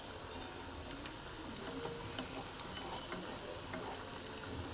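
Kurkure snack pieces fry in hot oil with a steady, dense sizzle and crackle that holds at an even level throughout, close and alone, with no voices.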